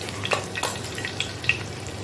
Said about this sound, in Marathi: लसूण आपण तांबूस करून घ्यायचंय, चांगला परतून घ्यायचंय।